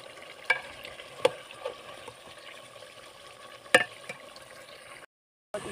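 Chicken frying in a pot, a low steady sizzle with a few sharp utensil knocks against the metal as it is stirred, cutting to a moment of silence near the end.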